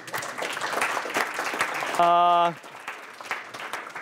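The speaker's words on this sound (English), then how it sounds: "Applause now." Applause at a conference session in Tallinn where new ESPON targeted analyses are introduced: a steady wash of clapping fills the room, with a voice speaking over it and a brief electronic tone in the middle.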